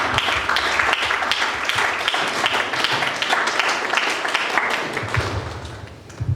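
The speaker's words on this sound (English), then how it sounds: "Big round of applause." Applause from the audience at a Toastmasters club's 100th meeting, a steady dense patter of clapping that runs the whole way through at fairly close range, with some murmur under it.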